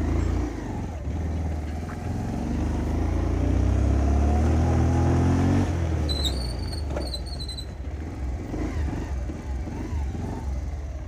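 Motorcycle ridden over a badly damaged, rough mountain road, engine droning loud and close with clattering bumps, then easing off as it slows to a stop.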